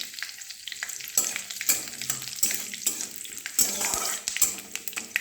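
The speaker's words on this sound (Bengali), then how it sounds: "দেখো পটপট পটপট আওয়াজ করছে, তখন দিয়ে দেবো কারি পাতা, দিয়ে দিলাম।" Curry leaves crackle and sizzle as they drop into hot oil in a home kitchen. The pops come in sharp, repeated bursts over a steady frying hiss.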